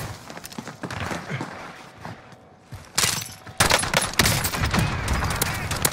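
Video game gunfire in a squad match: bursts of rapid shots crack at varying distances, quieter at first, then louder and denser toward the end, mixed with footsteps and faint voices.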